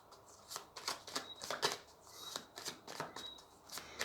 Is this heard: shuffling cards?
yes